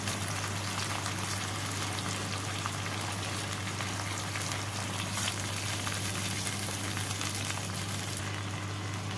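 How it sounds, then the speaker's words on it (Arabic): Mackerel roasting in a pan as its water cooks off, giving a constant, even bubbling sizzle that holds steady throughout, with a low steady hum beneath it. "هسيبه تحميصة بحيث انه ينزل"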